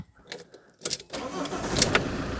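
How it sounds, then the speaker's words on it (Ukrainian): A Fiat Doblo engine is cranked with the key after the van keeps stalling when reverse is selected. Short bursts of cranking come first, then the motor catches and runs as a steady, close, mid-pitched idle. "давайте попробуємо опять завести"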